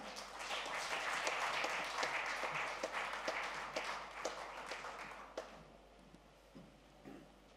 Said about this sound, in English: a big, big, big cheer